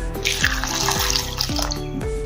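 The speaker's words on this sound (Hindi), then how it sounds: "इसको हम पानी में डालकर रखेंगे," Freshly cut eggplant pieces are dropped into a kitchen bowl of water while palak baigan dal is being made, producing a steady run of close, bright splashing and gurgling with no talk.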